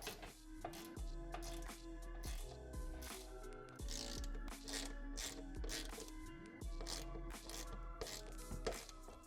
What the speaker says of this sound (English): we'll go ahead and tighten the bolts in the corners first and then the middle